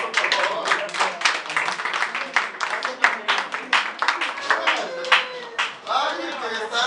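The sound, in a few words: audience applause at poetry reading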